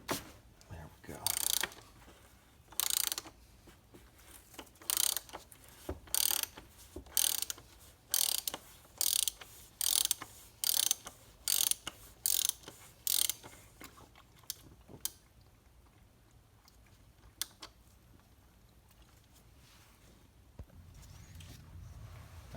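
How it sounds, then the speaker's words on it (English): A ratchet unscrews the oil filter housing on a 2009 BMW X3 xDrive30i, giving close, rapid bursts of clicking in repeated strokes that thin out to a few isolated clicks over quiet background. "You put a ratchet on there, and then you're able to screw it off."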